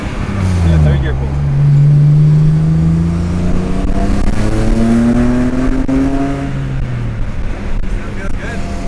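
A car accelerating hard in third gear, its loud engine note climbing steadily for several seconds from close by before easing off, with some talk underneath.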